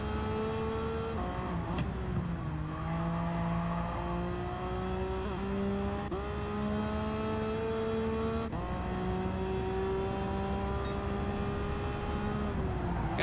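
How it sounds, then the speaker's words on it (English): A Nissan GT-R racing car engine in the video game Gran Turismo 7 drones steadily throughout, its pitch climbing through the gears and dropping at each shift, loud and continuous with no voices. "I love the sounds of their exhaust."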